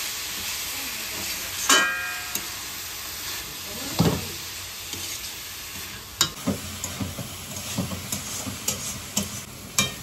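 Mushrooms being mixed into potatoes and spices frying in a pan, a broad hissing sizzle with intermittent scraping spatula strokes and clacks, close and fairly loud.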